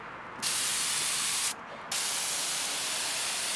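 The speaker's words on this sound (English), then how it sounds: "I have a compressor that sprays a certain spray adhesive" Steady hissing spray runs almost continuously, broken by one short pause before resuming, a compressor-driven sprayer blasting K-Grip spray adhesive up close.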